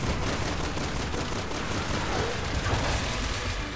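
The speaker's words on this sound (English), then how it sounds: "I'm just laying into him with sniper shots" Sniper rifle fire in the video game Resident Evil 6, heard as dense, continuous loud gunfire and booming blasts with no clear gaps, with no talk over it.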